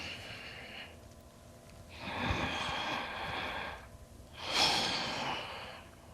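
Steady breathing during a yoga core strength practice, with a long inhale-like passage, a pause, then a stronger rushing exhale, close and fairly quiet with no talk.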